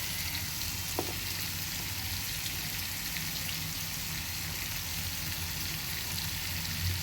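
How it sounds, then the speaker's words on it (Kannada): Tomatoes fry in a pan with turmeric powder and a little chili powder for lemon rasam in a home kitchen, a steady, even sizzle heard up close with one faint clink early on and no voices. "ಟೊಮೊಟೊ ಫ್ರೈ ಆಗ್ತಿದೆ."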